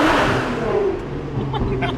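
A Nissan R35 GT-R launches hard on an airstrip with all four tires breaking loose. A loud, close engine roar runs through the whole brief moment, with its pitch climbing slightly.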